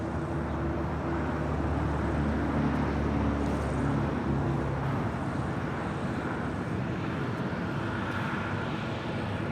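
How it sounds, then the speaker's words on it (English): Delta Airlines Boeing 737-900ER bound for Cabo taking off at LAX, a steady loud jet engine roar with a low rumble that holds throughout, mixed with wind noise and no talking. "Next takeoff, Delta Airlines flight 1875 heading to Cabo in a"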